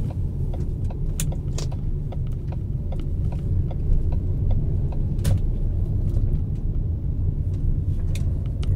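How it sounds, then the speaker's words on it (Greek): Strong wind buffets a car at Mykonos harbour, a dense continuous rumble filling the cabin with scattered sharp clicks and rattles throughout, loud and unbroken. "έχει πάρα πολύ αέρα έξω, πάρα πολύ"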